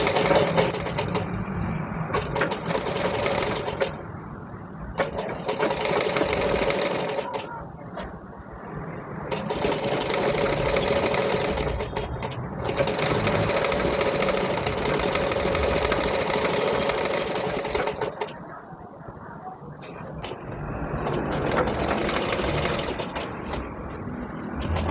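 A domestic sewing machine stitches an umbrella frock in steady runs of rapid mechanical whirring, pausing briefly between seams, loud and close.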